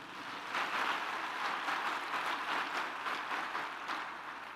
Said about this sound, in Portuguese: Quem recebe, dá um aplauso ao Senhor.